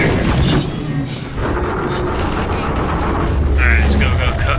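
Magnum revolver fire in Half-Life 2, loud shots in a busy, dense mix of gunfire and booms, with a voice talking over it.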